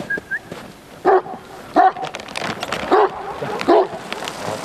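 Stray dogs barking at a street-animal feeding point where food is left out in winter: four loud, separate barks spaced about a second apart over steady outdoor background noise.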